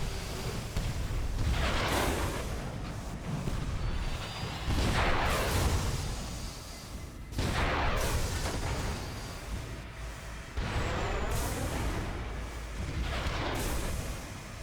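Broadside cannon fire from a ship in the Sunless Skies video game, heard as several loud, sustained booming blasts in a row, each rolling into a dense rumble.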